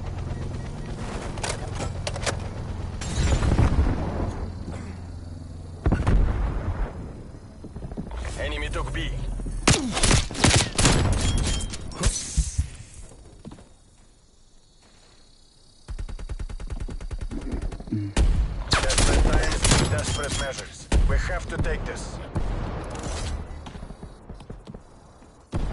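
Video game gunfire comes in dense, rapid crackling bursts across most of the stretch, loud and close, with one quiet gap partway through and a voice talking over it at times.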